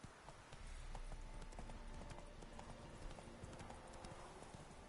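Roach the horse trotting in The Witcher 3, a steady quick clip-clop of hooves that continues throughout, fairly close, over faint ambient tones.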